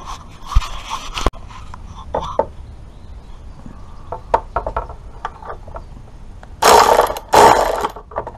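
A ratchet fitted with a wobble socket tightens bolts while refitting a ZX10 motorcycle mudguard: close, sharp clicks and knocks in scattered bursts, ending in two louder stretches of rapid ratcheting.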